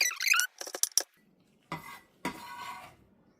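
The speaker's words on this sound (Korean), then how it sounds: "뒤집어서 고추는 이렇게 썰어주세요" Knife slicing chili pepper on a cutting board while preparing stir-fried round zucchini, giving a few quick close taps and chops, followed after a pause by two brief scraping, clattering bursts.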